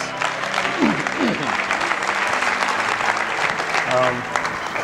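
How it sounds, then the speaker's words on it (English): Warm audience applause at a fatherhood summit, continuous dense clapping from a sizable crowd, with a few voices calling out over it. "And of course, the mom, Ms. Mary Pope, give her a round of applause."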